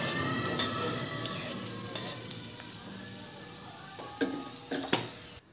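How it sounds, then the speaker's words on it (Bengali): Chopped dried red chilli frying in oil for ol leaf bhaji, with a continuous close sizzle and a few clinks and stirring scrapes on the pan. "এবার আমি শুকনো লঙ্কাটাকে কিছুক্ষণ ভেজে নেব।"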